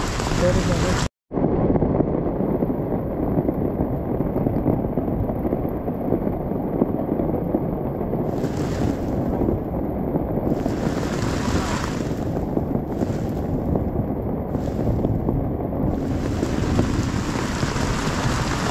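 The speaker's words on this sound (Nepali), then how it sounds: "असिना पानी पर्यो ठुलो असिना पानी लगाइ" Dense, loud rainfall roars without pause, mixed with large hailstones pelting a surface, briefly cutting out near the start; in Palpa, Nepal.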